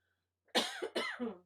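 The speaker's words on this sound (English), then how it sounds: "if you hear me cough, I apologize" Two close, harsh coughs burst out one after another, near and fairly loud, with a short gap of silence before them.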